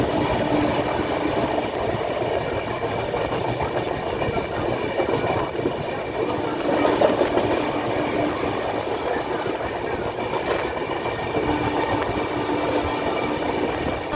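The Andhra Pradesh Express 20806 speeds through Dholpur Junction station, heard from onboard as a continuous, fairly loud rumble with rail clatter and faint wheel squeals throughout, with no voices.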